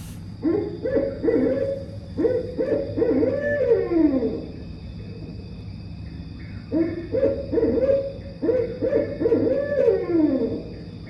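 A rhythmic series of barred owl calls, two phrases of rising and falling hoots over a steady low hum, clear and close.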